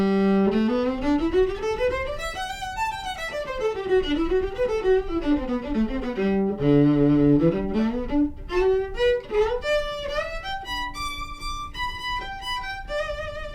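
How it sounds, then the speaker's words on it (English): An amplified violin plays a flowing melody with sweeping runs and slides through a pickup and small amplifier, bright and close, with a slightly electric tone. "So here is the sound of the pickup through the amplifier."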